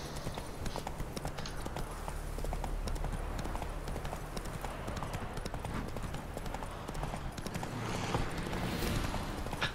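Horse hooves gallop in The Witcher 3: Wild Hunt as a rapid, rhythmic clip-clop that runs throughout over a soft game ambience, and a brief snort or whinny-like sound may also be heard.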